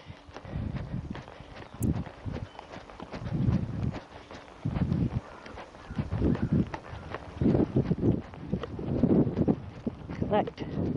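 Horse hooves trotting during dressage schooling, a steady rhythmic clip-clop of collected and medium trot strides heard close by, with speech over parts of it.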